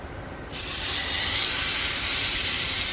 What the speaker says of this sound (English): I've heated up some avocado oil at high heat in a skillet, and we're ready to go ahead and start searing up the rump roast.